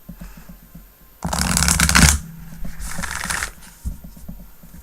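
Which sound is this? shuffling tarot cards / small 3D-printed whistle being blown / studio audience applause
shuffling tarot cards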